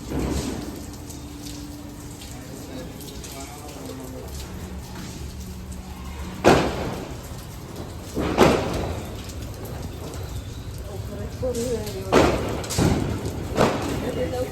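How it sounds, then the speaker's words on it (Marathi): Steady rain hisses throughout, with several sharp thuds and bangs breaking through, and voices talking at moments underneath. "पाऊस काय थांबायचं नाव नाही"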